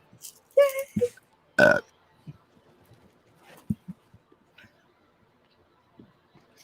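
A loud human burp stands out near the start, a brief harmonic belch preceded by a shorter vocal burst, followed by scattered faint clicks and small noises in a quiet room.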